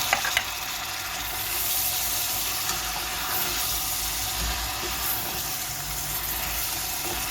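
Frozen peas sautéing in roasted tomato paste in a pan, a steady broad sizzle and hiss with a few stirring knocks near the start, fairly close and unbroken by talk.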